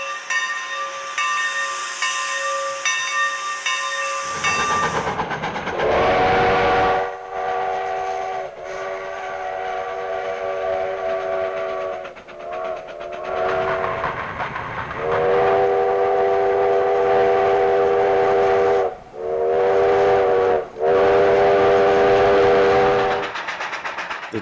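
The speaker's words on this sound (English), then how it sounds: "The 28 on the last leg of its return trip into Jamestown from Chinese" Sierra Railroad steam locomotive No. 28 heads into Jamestown, opening with a loud hiss of steam, then a long chime whistle sounds in repeated drawn-out blasts over the continuous rumble and clatter of the moving train.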